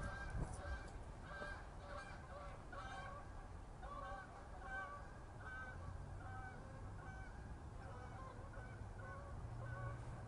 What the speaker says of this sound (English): the snow geese in a long wing